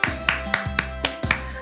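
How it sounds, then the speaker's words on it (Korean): A church congregation at a Friday worship service applauding, heard as a handful of distinct, rhythmic claps spaced at roughly regular intervals rather than a full roar, fairly close and clear. "오늘도 하나님께 영광의 박수 올려드립니다"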